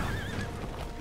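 A single short horse neigh in Wo Long: Fallen Dynasty, bright and wavering, rings out briefly with soft hoofbeats underneath.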